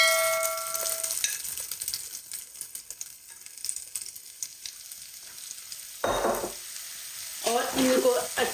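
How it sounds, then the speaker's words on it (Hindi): Okra drops into hot oil and fries with a steady crackling sizzle, broken by louder bursts of stirring and spoon scraping against the pan, with no speech over it. "अब इसके अंदर भिंडियाँ डाल देंगे"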